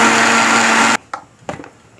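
A kitchen mixer grinder runs loud and steady while grinding coconut paste for jackfruit erissery, then cuts off abruptly about halfway through, leaving a few faint knocks and clatters.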